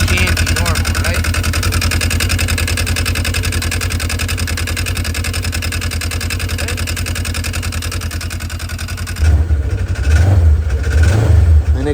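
A Polaris RZR side-by-side drones loudly and steadily with driveline noise as the engine is revved, then the sound shifts near the end, with a voice speaking over it.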